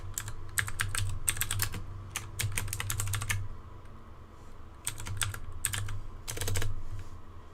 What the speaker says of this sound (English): I'm typing in now